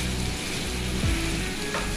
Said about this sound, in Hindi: इसमें करेंगे अच्छे से चिकन फ्राई। जितने पीसेस होंगे इसको फ्राई करेंगे लहसुन में